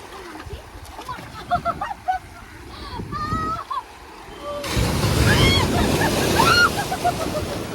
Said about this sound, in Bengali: জলের কি আওয়াজ এই জলের আওয়াজে পুরো ভয় লেগে গেছিল